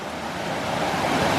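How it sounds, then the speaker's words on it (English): Small river rapids in the Great Smoky Mountains near Gatlinburg, Tennessee, make a steady, close rush of water that swells slightly toward the end, with no talking. "There's these little rapids here."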